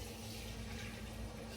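Pre-heated water is poured into a pot of mutton curry, a steady continuous splashing gush, fairly close and uninterrupted.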